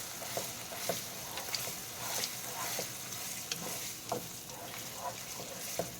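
A spoon works through cream of mushroom soup in a pan with soft repeated scrapes and small clinks at an uneven pace, over a faint steady sizzle-like hiss, close and fairly quiet.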